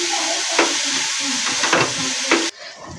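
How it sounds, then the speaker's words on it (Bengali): Cauliflower stir-fries in a pan with turmeric, cumin and coriander powder, giving a loud, steady sizzle broken by several stirring scrapes before the sound drops off abruptly near the end. "আমি হলুদ আর জিরের গুঁড়ো আর ধনে গুঁড়োটা দিয়ে দেব, দিয়ে আরেকটু নেড়ে নেব।"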